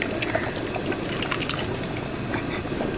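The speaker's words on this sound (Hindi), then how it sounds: "यहाँ पे 1 kg दही है वो शामिल कर देंगे" Thick yogurt, a full kilogram, pours and slops into a large pot of bubbling chicken karahi, giving a steady wet sizzling, gurgling wash up close with no talk over it.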